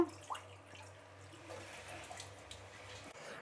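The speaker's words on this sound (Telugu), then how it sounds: "ఇప్పుడు ఈ నీళ్ళు వంచేద్దాము." Water poured off washed mutton trotters being prepared for paya soup, a steady moderate splashing and trickling that runs for a few seconds with a low hum underneath, no talking.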